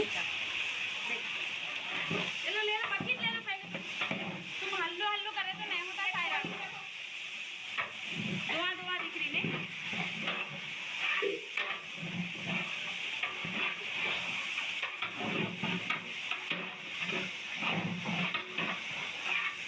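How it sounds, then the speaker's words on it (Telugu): Five kilograms of tomatoes fry in a large pot for a 20 kg Hyderabadi mutton tahari, giving a soft, steady sizzling hiss beneath a person talking throughout. "నేను ఈ ఫైవ్ కేజీ టమాటాలని ఇందులో వేస్తున్నాను ఇవి కూడా బాగా ఫ్రై చేసుకోవాలి"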